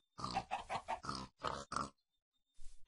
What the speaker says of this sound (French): Là, on va mettre les cochons.